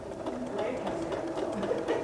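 Sewing machine runs steadily while stitching a soft curve in fabric, a continuous close whir, with a person talking over it throughout.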